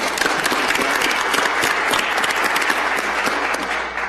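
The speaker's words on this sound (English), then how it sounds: "let's give a round of applause for these ladies" Loud, dense applause from the audience at a Chicago Public Schools Board of Education special meeting, honoring a group of young women; a continuous wash of many hands clapping at close range throughout.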